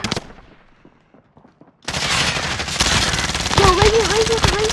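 Gunfire erupts in a Call of Duty: Warzone firefight, with rapid automatic bursts and shots after a quiet opening, loud and dense, with game voice effects over the shooting.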